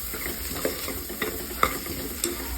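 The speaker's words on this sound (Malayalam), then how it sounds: "ആ കാശ്മീരി ചില്ലി പൗഡർ 2 സ്പൂൺ ഇടുക. നല്ലതുപോലെ വഴറ്റുക." Kashmiri chilli powder sizzles as it is stirred and sautéed in a pan for Kerala-style beef roast. A steady, quiet frying hiss runs throughout, broken by a few soft scraping strokes of the stirring spoon.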